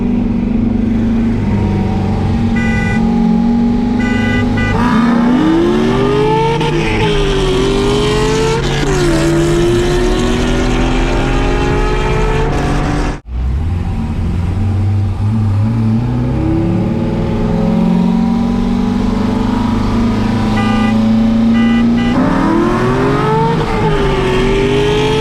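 C5 Corvette with headers and intake accelerates hard in two full runs, the V8 roaring loud and close as revs climb through gear changes, with a brief cut between runs and no talking.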